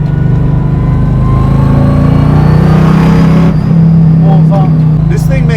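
A 700-horsepower supercharged Chevrolet Camaro Z28 restomod accelerates on light throttle, its engine a loud, steady low drone that climbs in pitch, heard from inside the car with a brief shift near the end.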